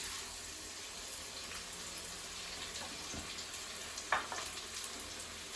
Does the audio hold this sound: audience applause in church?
no